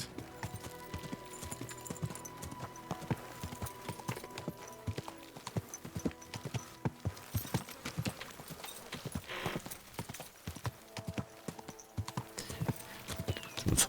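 Horse hooves clip-clopping in the video game Kingdom Come: Deliverance II, a steady stream of soft irregular hoof strikes over a quiet ambient game backdrop, moderately near and fairly faint throughout.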